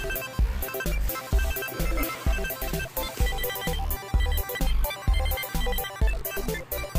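A phone ringtone plays as a loud, steady, rhythmic musical pattern with a repeating beat and a bright melody. It keeps going without a break, with no talking over it.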